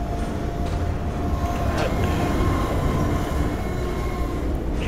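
An overhead train passes in Half-Life 2, a loud continuous rumble of rolling wheels and rattling cars with faint metallic squeal, steady throughout and free of talk.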